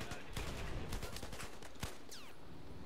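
Battlefield 4 gunfire in a firefight: scattered sharp shots and short bursts crack over a busy battle din, with a whistling streak near the end.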